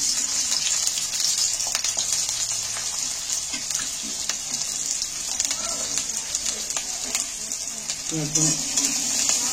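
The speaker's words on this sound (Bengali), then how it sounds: "এখানে আমি একটু বড় বড় করে কেটে রাখা পেঁয়াজগুলো তেলের মধ্যে তুলে দিচ্ছি।" Coarsely chopped onions sizzle in a little oil in a wok, a dense continuous frying hiss with some stirring clatter and a voice speaking faintly over it.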